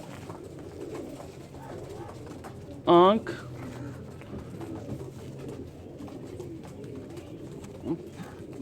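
A Kasuri pigeon, a male with an orange eye ring, lets out one short coo near the middle while someone talks quietly throughout.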